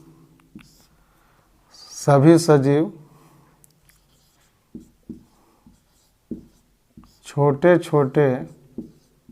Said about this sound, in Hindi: तो उस पॉइंट को लिख दे रहे हैं